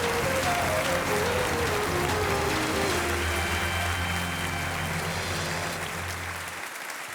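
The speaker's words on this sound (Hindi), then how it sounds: "तालियां बजती रहे अभिनव पांडे के लिए।" Sustained applause from a KBC studio audience fills the hall, steady and loud throughout with music underneath, then fading toward the end as a contestant takes the hot seat.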